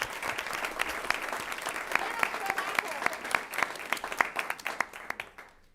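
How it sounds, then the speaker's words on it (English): At a CCSD59 school board meeting, an audience gives students a round of applause: scattered, moderate clapping with distinct individual claps that thins out and fades near the end. "And a huge round of applause for our students."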